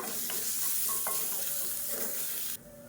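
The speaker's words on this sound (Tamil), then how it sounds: "இப்போ பாருங்கள், பூண்டு நல்லா வறுபட்டுருச்சு." Six cloves of crushed garlic frying in hot oil, with a steady close sizzle and a few scraping stir strokes against the pan, cut off abruptly near the end.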